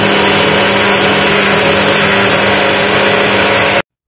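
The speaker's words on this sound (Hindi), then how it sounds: "इसका नाम ये हैमर प्लस ड्रिल, मतलब कि होल के साथ साथ एक फोर्स लगाएगा" A hammer drill running in hammer-plus-drill mode, rotating while impacting, gives a loud, steady whirring buzz with a constant tone for nearly four seconds before cutting off abruptly, with no talk over it.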